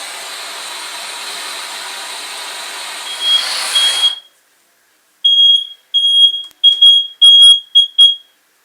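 A smoke alarm shrieks in short, piercing beeps after a stretch of hissing workshop noise, bursting in an uneven series of loud chirps before stopping.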